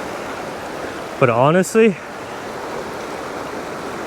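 Rain-swollen stream flowing near the Brown Mountain Dam waterfall, a steady broad rush of water throughout, with a man's brief spoken remark over it partway through.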